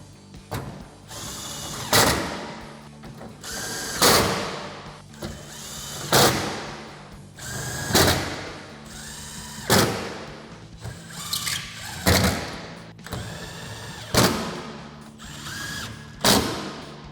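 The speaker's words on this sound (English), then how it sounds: "And now take your T30 torque socket and tighten down all of your bolts." A power tool with a T30 torque socket tightens the bolts on a third brake light for a 2020 or newer Jeep Gladiator JT. About eight short, whirring bursts repeat roughly every two seconds, close and loud.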